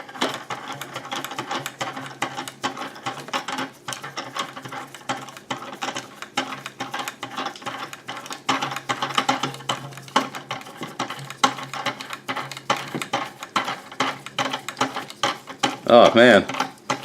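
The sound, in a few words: tightening North Bayou desk mount clamp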